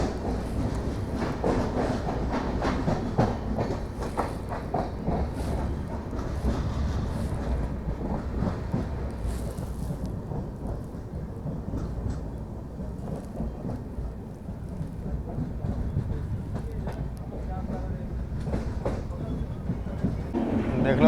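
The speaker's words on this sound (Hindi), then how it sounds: "फ्रेट के पीछे से आपको निकल रही है Rajendra Nagar Patna Howrah super fast express" The Rajendra Nagar Patna–Howrah Superfast Express passes behind a freight train, heard from aboard a moving train as a loud, steady rumble and rushing roar that fills the whole stretch without letting up.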